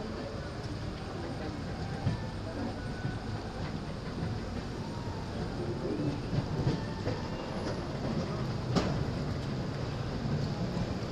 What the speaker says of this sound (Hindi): फाइनली दोस्तों हमारी ट्रेन पहुंच रही है टाटा नगर।